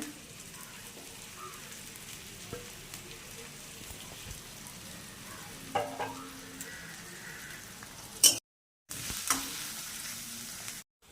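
Onions fry with crushed ginger, garlic and chillies, a steady close sizzle with occasional stirring knocks and a brief gap near the end.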